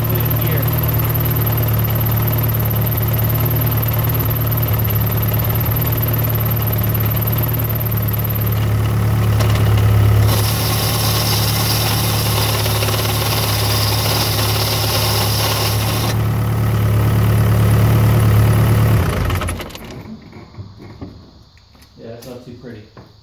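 An engine idles with a steady, rumbling drone and a faint vibration while the clutch is held down on a car with a failing clutch. It runs loud and unbroken for most of the span, then drops away sharply near the end, leaving quieter shuffling.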